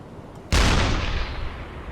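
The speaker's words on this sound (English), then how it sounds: "we'll do 2 more shots into this one's hull" A deep gun blast from a U-boat deck gun striking a ship's hull in a naval combat game, one sudden loud boom after a quiet lead-in, with a long rumbling decay trailing off.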